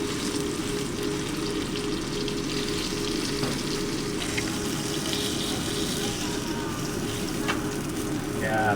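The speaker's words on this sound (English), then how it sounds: "Sear the other side." A steak sears in a hot pan, sizzling and crackling continuously and fairly loudly from start to finish.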